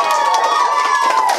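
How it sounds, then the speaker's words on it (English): Students cheer and applaud for a teacher in a brief, loud burst of crowd noise, with shouting voices and clapping packed together throughout. "Can we get a round of applause for your Teacher Tuesday?"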